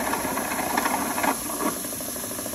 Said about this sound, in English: I'm really drawing the motor down to the low RPM of the motor. So it's really torquing its way through the wood here.